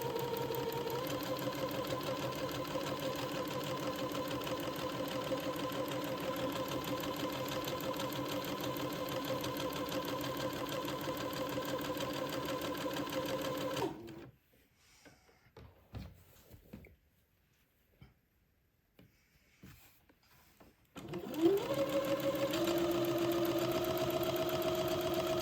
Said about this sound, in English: this will take me a minute to get this seam sewn and also the other one